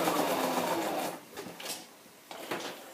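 A sewing machine runs a straight stitch across a large scrapbook layout: a close, fast mechanical whir for about a second, then short bursts of stitching between pauses.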